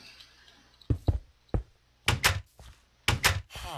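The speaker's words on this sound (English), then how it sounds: "I think we're going to put the door here." Wooden door placed in Minecraft, a series of short hollow thunks and taps in close pairs, fairly soft and near, spaced across a few seconds.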